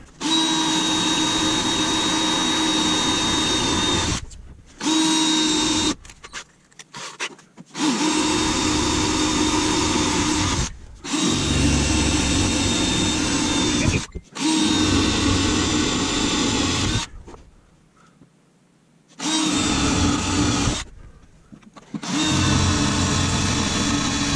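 A cordless drill bores out spot welds on the drive shaft support of a 2G DSM during an AWD swap, with long loud whining bursts broken by short pauses, close and alone.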